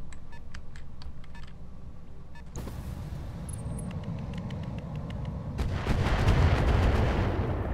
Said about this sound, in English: Not having much luck with indirect fire lately.